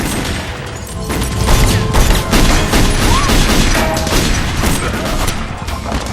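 Gunfire erupts in a violent movie ambush shootout outside a diner, with dense, loud volleys of shots and crashing impacts that go on almost without pause throughout.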